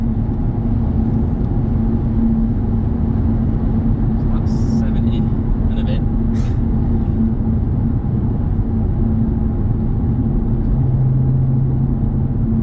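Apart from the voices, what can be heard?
car driving at 70 mph with exhaust drone fix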